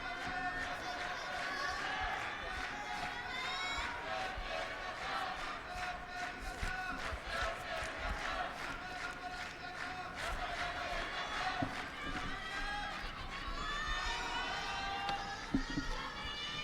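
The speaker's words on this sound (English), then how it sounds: "A lot of support there up in the crowd." Spectators at the Tokyo Judo Grand Slam cheer and shout steadily in a big arena crowd, a dense, sustained roar with scattered claps and sharp calls rising throughout.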